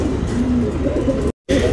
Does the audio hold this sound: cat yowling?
no